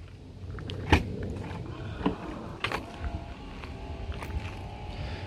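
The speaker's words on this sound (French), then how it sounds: "on va ouvrir le coffre" The trunk of an Audi A8 V8 TDI being opened, a soft latch click followed by a quiet mechanical whir and a few small knocks close by, with faint background ambience.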